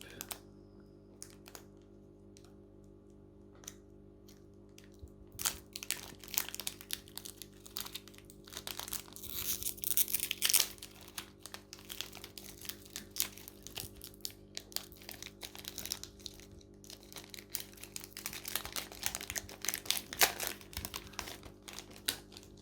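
Pokémon booster packs, Règle de Glace, torn open by hand: crinkling, crackling foil and paper close up, starting sparse and growing into dense, continuous tearing and rustling through most of the stretch.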